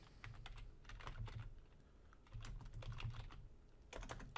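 Computer keyboard typing out a folder name on a Windows Server 2019 machine, two quick bursts of close, soft key clicks separated by a brief pause.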